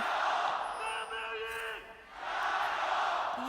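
Home fans roar and cheer in a packed arena at a League of Legends pro match, a broad sustained crowd wash that dips briefly midway and then surges back to full volume.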